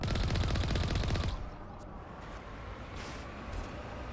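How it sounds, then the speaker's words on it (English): Rapid automatic gunfire in the video game Mass Effect Legendary Edition, a loud dense burst of shots for about a second before cutting to quieter background game ambience. "yep, they're already shooting"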